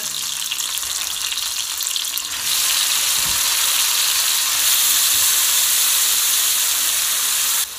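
Peppers and tomatoes frying in oil for Samsun-style menemen, a loud, steady sizzle that grows more intense partway through, with a brief clatter of stirring.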